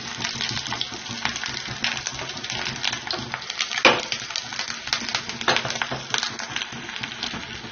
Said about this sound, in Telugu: కొంచెం జీలకర్ర వేసి వేయించుకుంటాం కొంచెం కరివేపాకు వేసుకున్నాను అలాగే ఇంగు కూడా వేస్తున్నాను